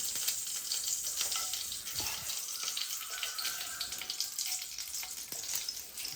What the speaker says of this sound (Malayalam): കടുക് പൊട്ടി ഗൈസ്, പൊട്ടുന്നു ഗൈസ്.